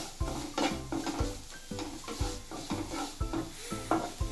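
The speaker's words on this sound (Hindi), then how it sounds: "यहाँ पे मैंने फ्रेंच बीन्स ली है कटी हुई, वो भी डालेंगे इसके अंदर, अप्रॉक्स 1/4 कप, इसको भी हम सॉटे करेंगे अच्छे से।" Chopped French beans sautéed in a pan over medium flame, with rhythmic stirring scrapes and clinks of a utensil against the pan over a steady sizzle, close and fairly loud throughout.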